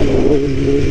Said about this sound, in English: That's a nice old motorcycle.